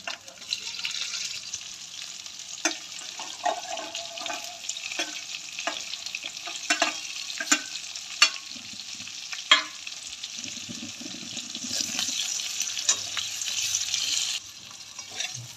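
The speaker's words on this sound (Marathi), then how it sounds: "हिरव्या मिरच्या आणि भरलेले वांगे तेलामध्ये टाकून द्यायचे" Stuffed eggplants and green chilies sizzling and crackling in hot oil in a kadai, with clinks and scrapes of stirring throughout, steady and close, with no talking.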